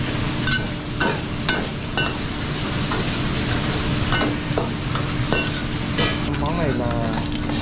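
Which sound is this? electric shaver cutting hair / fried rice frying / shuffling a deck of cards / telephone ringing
fried rice frying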